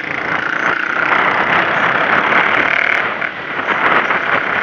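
A steady, loud engine idles through a stainless steel exhaust with a rough, throaty hum, the tone dipping briefly near the end before settling back.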